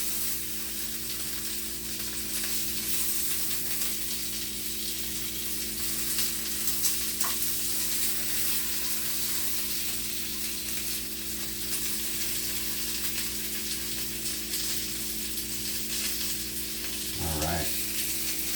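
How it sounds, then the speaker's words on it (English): Beef filet searing in a hot pan, a steady close sizzle and crackle that runs unbroken throughout, with a brief clatter near the end as the meat is shifted. "I'll just hold it there while it gets a nice sear"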